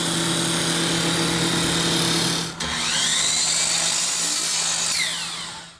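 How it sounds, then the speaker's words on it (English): A power tool whines steadily as it trims down a wooden baseball bat, with a short dip in the middle before the grinding resumes and then fades. "the week-long process starts with trimming down the bat"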